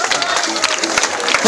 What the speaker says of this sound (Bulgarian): отново аплодисменти.